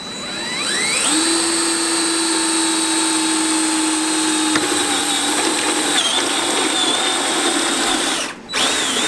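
A power drill whines steadily at high pitch as the bit cuts through material, a continuous sharp tone that briefly dips near the end.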